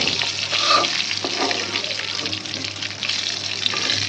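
Pointed gourd (potol) frying in oil, a steady close crackling sizzle with faint bubbling and a low background hum running beneath it.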